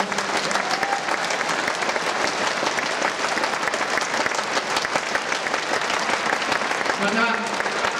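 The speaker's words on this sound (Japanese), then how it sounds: "今一度監督、選手、スタッフに大きな拍手をお願いしたいと思います。" Dense, loud stadium applause from a large crowd of football supporters at a J-League match, honouring Matsumoto Yamaga's coach, players and staff, a steady roar of clapping with some faint voices underneath.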